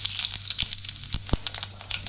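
Cumin seeds hit hot oil that already holds mustard seeds, giving a steady crackling sizzle with small pops scattered through it, close and fairly loud.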